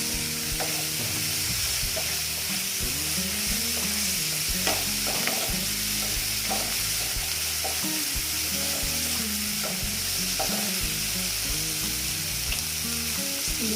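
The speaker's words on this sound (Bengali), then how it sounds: "তারপরে দিচ্ছি যে চিনি দিয়ে আমি দেখো এটাকে ভালো মতন কষিয়ে নিচ্ছি" Shol fish masala with sugar being stirred and fried in a pan, a loud continuous sizzle with repeated scraping strokes of the spatula, close and steady with no talk.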